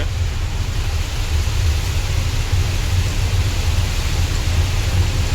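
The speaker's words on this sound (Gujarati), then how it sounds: "આ અત્યારે કન્ડિશન છે વરસાદની" Steady, heavy rain roars without a break on a moving vehicle, with a low rumble underneath like an engine or traffic nearby; no voices.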